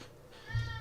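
A house cat gives a single short meow, faint at first and then a little louder near the end.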